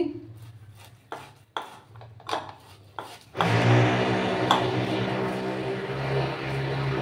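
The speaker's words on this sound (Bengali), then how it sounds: "এবার এটাকে আমি গ্রেটারে গ্রেট করে নিচ্ছি।" A boiled potato is rubbed over a metal grater, first in a few separate scraping strokes with pauses, then a loud, continuous rasping scrape that goes on steadily, close by, with no talk.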